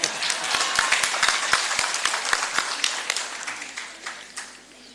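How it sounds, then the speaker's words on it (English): Audience at a national early childhood care and education symposium claps in a hall, a dense patter of many hands that stays full before thinning and fading toward the end. "If you want to clap for me, clap properly."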